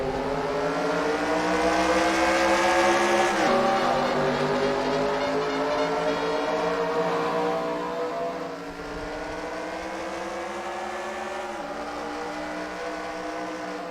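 Modified race cars roar around a speedway oval in a continuous loud engine drone, pitch sweeping as the pack passes and fades, then rising again with a second surge.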